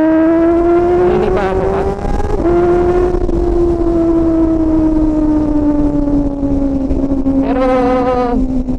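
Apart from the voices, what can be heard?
loud four-cylinder motorcycle engine revving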